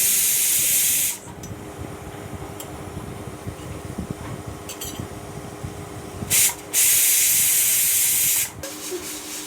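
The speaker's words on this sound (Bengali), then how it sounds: "এখানে কিন্তু সিটিটাও আসছিল প্রচণ্ড জোরে" A pressure cooker lets off loud bursts of hissing steam through its whistle: one long blast at the start, then a short burst and a longer sustained one, with a quieter steady hiss between.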